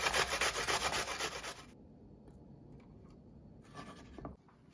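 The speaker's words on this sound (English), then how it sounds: "Next, we're going to grate our white onion." A white onion is grated for beef kebabs with loud, rapid rasping strokes in a steady rhythm that stop abruptly, followed by quieter scraping and a brief final burst.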